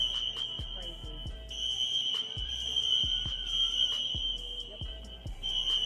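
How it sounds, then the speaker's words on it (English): A fire alarm rings continuously with a steady high electronic tone and rapid pulsing beats, sounding loud and constant throughout. "You see him over there pulling the fire alarm"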